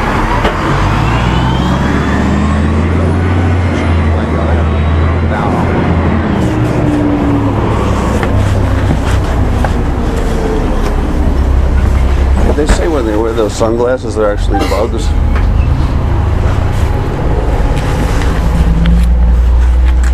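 A bus engine rumbles low and steady with surrounding road traffic, loud and continuous throughout while a person talks over it.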